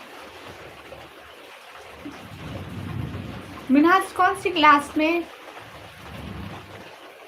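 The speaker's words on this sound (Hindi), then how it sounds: "इतनी बारिश आ रही है" Heavy rain falls steadily throughout, a broad hiss beneath people chatting nearby, with one voice briefly louder in the middle.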